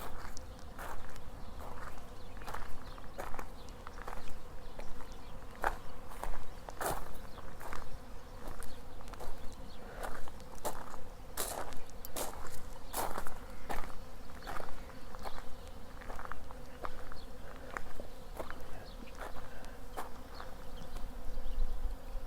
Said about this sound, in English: I hear like a flock of bees, but they might just be some other type of insects.